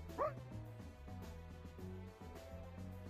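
Puppy in a video game giving a single high yip early on, set against soft looping game music with sustained tones that carry on alone afterward.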